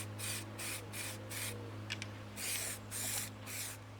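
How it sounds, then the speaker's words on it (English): Short hissing bursts of a spray can or gun laying a base coat on a Mazda MX-5 Eunos Roadster part, about seven close sprays in an even rhythm over a steady low hum. "I'm going to give it a basic coat to start with."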